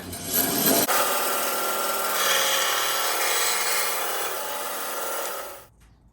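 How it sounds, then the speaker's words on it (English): A bandsaw cuts a bespoke section in half with a loud, steady, close rasping whine that holds for about five seconds and then cuts off abruptly, leaving near silence. "we're going to cut this in half on the bandsaw so you can see what that looks like on the inside."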